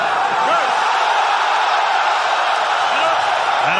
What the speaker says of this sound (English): This crowd is going berserker, I tell you that